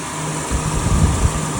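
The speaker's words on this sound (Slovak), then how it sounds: "Pozrieme sa, ako beží motor." An old car that has sat parked for some time idles steadily nearby, a low, even engine rumble with slight uneven pulses and a faint high whine, no voices.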